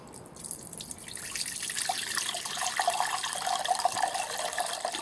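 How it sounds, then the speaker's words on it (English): Water pours steadily into a container, a gurgling trickle that swells and grows fuller after the first couple of seconds, with no voices. "pour the water off back into the spare jar."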